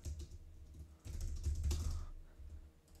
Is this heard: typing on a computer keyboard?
yes